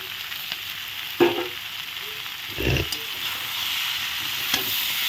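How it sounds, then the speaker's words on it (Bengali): Mixed vegetables with pumpkin, sweet potato and potato being stirred as they fry in a pan, a low steady sizzle with a few distinct scrapes and clanks of the spoon, close up, no speech. "সব কিছু দিয়ে দিলাম দিয়ে এখন একটু ভালো করে নেড়ে কেড়ে দিচ্ছি পাঁচ মিশালি সবজি"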